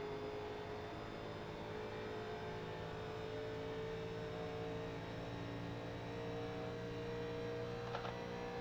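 A 1987 NASCAR stock car engine in the iRacing game at Las Vegas, a steady sustained drone held at high revs throughout, even and continuous at moderate level with no talking.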